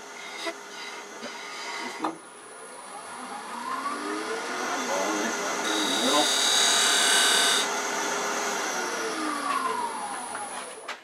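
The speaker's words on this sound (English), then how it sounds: "we're going to use an 1/8 inch hand drill" Steady whirring and grinding of a 1/8 inch hand drill widening a hole in a wooden chess piece, rising in intensity midway then easing off, with faint scraping throughout.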